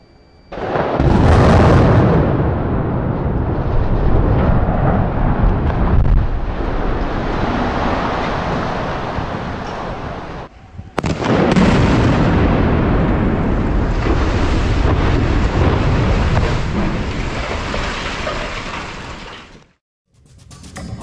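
Demolition blasting brings down the western half of the Sterbecke highway bridge in Hagen: a heavy explosive boom followed by a long roaring rumble of collapsing concrete, then a second loud crash and rumble that fades to quiet at the end.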